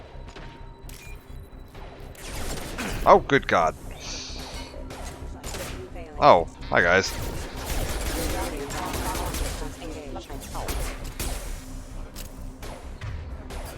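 Scattered Mass Effect 2 gunfire and impacts crackle in the background while a person talks over it, with a couple of louder bangs.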